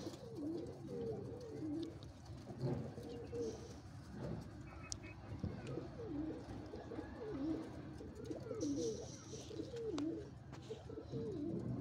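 Pigeons coo softly and repeatedly in low, rolling calls over a steady background hum, with occasional faint chirps.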